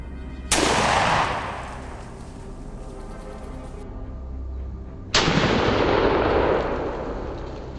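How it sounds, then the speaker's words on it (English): Two loud rifle shots fired at a wild boar in a forest, each a sharp crack followed by a long rolling echo, about four seconds apart. "Steady on the bead, I squeeze the trigger."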